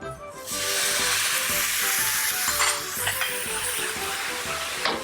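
Soy sauce hits braising pork with star anise and cinnamon in a hot wok, setting off a loud, sudden burst of hissing sizzle that stays strong with occasional clanks of the utensil.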